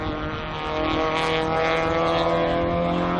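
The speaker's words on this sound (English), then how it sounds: "2-litre 16-valve engine" A historic race car with a 2-litre 16-valve engine revs hard at a classic circuit race, a loud, buzzy, tonal engine note held near and steady with rising intensity.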